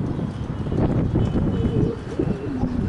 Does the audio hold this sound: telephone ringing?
no